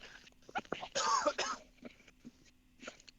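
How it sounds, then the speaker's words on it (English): A single person coughs and clears the throat mid-conversation, a short burst near the middle between stretches of quieter talk from the same voice. "Hold on, I got a cough."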